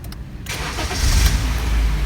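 A Honda car with an electric power steering fault starts up nearby: brief cranking, then the engine catches and settles into a loud, steady idle.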